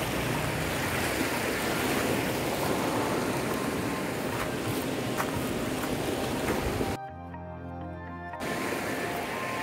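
Waves on a sandy beach at Panglao Island, Bohol, a continuous broad wash of surf close by, briefly dropping away to a quieter hum before the rushing water returns, with no voices.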